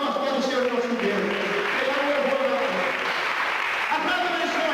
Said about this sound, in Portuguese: Anda uma salva de palmas pelo Senhor nosso Deus.